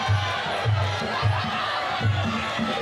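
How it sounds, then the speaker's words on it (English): A crowd at a Warriors Cup fight event roars and chants, a loud, continuous mass of voices with rhythmic surges of shouting repeating every half second or so. "Crowd really coming alive here."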